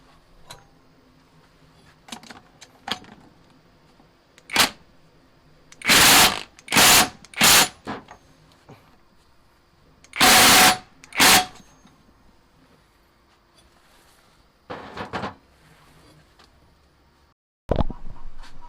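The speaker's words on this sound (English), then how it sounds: "We're gonna torque them down with the impact wrench" An impact wrench torques down bolts during a first-time transmission rebuild on a 4G63T DSM Eclipse, firing loud, close bursts in two clusters of three and two, with scattered ratchety clicks and taps between them.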